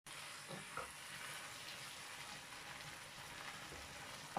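Sauce for meat with white beans simmers in a pan, giving a soft, steady sizzle and bubbling hiss that stays faint and even throughout, with a small clink near the end.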